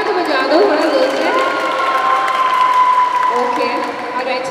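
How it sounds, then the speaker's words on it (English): Audience at a fashion collection launch event clapping and cheering, a loud sustained crowd roar with whoops and sung or shouted voices over the applause. "Let's have a big round of applause first of all for everyone out there"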